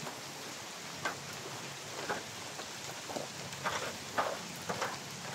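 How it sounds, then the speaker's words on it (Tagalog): Steady rain falling on a forest hiking trail, a soft constant hiss with scattered louder drops and patters landing close by, and no voices. "Wala, lumalakas ang ulan."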